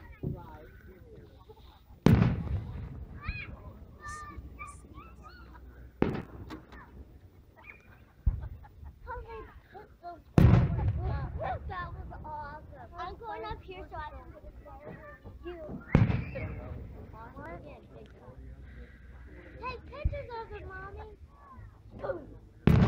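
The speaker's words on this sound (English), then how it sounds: "I like the boom." Fourth of July fireworks boom at intervals, several sharp loud blasts ringing out among scattered clucking and crowing sounds, with people talking between the bangs.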